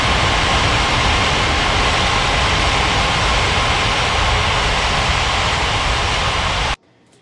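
An airliner's jet engines hum and whine steadily while it taxis toward the runway at Ngurah Rai Bali International in the Unmatched Air Traffic Control game, loud and continuous before cutting off abruptly near the end.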